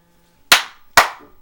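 Two sharp hand claps spaced about half a second apart, close and crisp, each ringing briefly in a quiet room with no talking.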